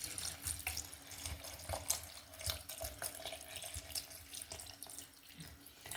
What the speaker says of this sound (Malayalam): അതിനുശേഷം ആവശ്യത്തിന് വെള്ളം ഒഴിച്ചു കൊടുക്കുക.